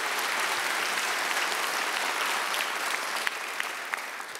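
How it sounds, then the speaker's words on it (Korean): A large audience at a national government briefing event claps in sustained, even applause for several seconds, fairly close and full, with a few sharper individual claps near the end. "여러분 박수 한번 더"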